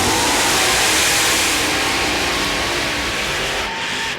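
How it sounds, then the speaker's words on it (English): Supercharged mud racing engine at an NMRO mud bog event, 1995, roaring loud and steady at high revs throughout, a dense continuous blare fading slightly near the end. "Both of them running supercharged engines, going late in the field."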